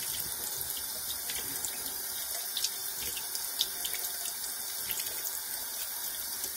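Champagne glasses rinsed under a running tap, a steady faint stream of water splashing into a sink with small clinks and splashes, unbroken for several seconds.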